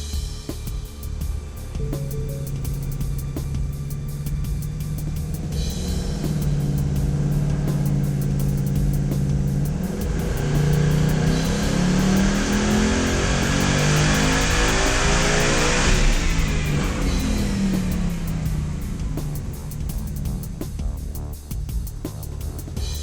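A car engine revs on a chassis dynamometer during a ramp test run, climbing steadily in pitch through the gears over a constant roar, loud and close, then easing off near the end.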